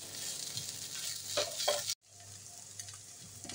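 A grated coconut mixture is stirred in a pan over low heat, a gentle, steady sizzle carrying a few soft scrapes before a sudden cut, then continuing faintly, close and without voices.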